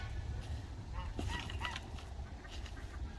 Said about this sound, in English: There's a goose over there freaking out.